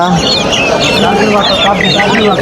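Polish cap chickens at a busy Mirpur poultry market cluck and chatter continuously up close, with other fowl and market voices mixed throughout.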